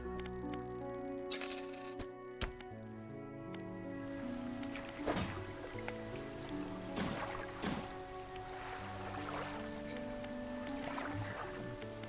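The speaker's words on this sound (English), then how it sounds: "How fast the boat is now with 3 engines." Boat with three engines in the fishing video game Dredge, a steady layered engine drone and hum running throughout with occasional faint clinks and splashes on top, no talk.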